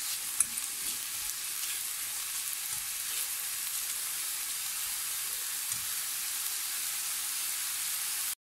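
Chopped onion sizzles steadily in hot oil in a pan while being stirred, a continuous close, even frying hiss with a few faint scrapes and no talk.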